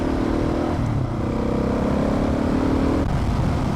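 A vehicle drives along a dirt outback road in New South Wales, its engine droning steadily and close with a shift in tone as it passes.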